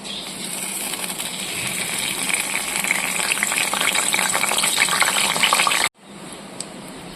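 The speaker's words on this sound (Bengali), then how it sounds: "এবার ফোড়নগুলো একে একে ছেড়ে দিচ্ছি।" Whole spices for tempering, including chilli, cinnamon and cardamom, fry in hot oil left from frying lentil fritters, giving a steady, fairly loud close sizzle that cuts off abruptly and resumes more quietly.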